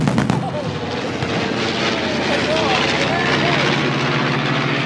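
Two 2,000-horsepower Pratt & Whitney R-2800 radial engines drone loudly and steadily as a bomber flies at speed, a dense continuous roar with a voice speaking briefly over it.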